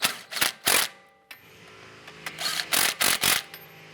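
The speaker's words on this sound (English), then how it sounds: "Let's go ahead and tighten down" Ratcheting wrench tightening strut-to-knuckle nuts on a 2012-2017 Toyota Camry during a wheel hub replacement, heard as close, sharp bursts of clicking in quick repeated strokes with a short pause, no talk.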